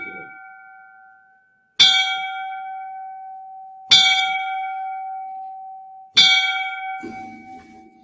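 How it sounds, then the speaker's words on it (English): A bell struck for a firefighter's line-of-duty death ceremony, with three loud, clear strikes about two seconds apart, each ringing out and decaying slowly over a sustained tone, with no talking. "We're going to ring the 5 bells,"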